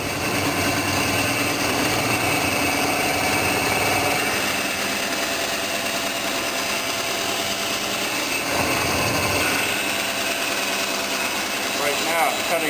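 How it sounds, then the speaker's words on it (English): A bandsaw cuts out a wooden anvil stand, giving a loud, steady motor drone with continuous blade noise throughout and a brief change in tone near the end. "Now I'll go and cut it out on the bandsaw."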